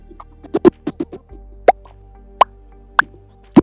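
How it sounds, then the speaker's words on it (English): Short cartoonish pop sound effects from the Animation Composer plugin, a string of quick separate plops and bubbly pops of varying pitch, spaced irregularly and heard alone. "All these pops, you can hear it go."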